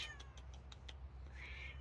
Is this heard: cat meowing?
yes